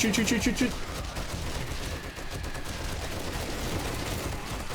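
Gunfire in the zombie survival game 7 Days to Die during a horde night, a quick burst of shots followed by dense, continuous combat noise.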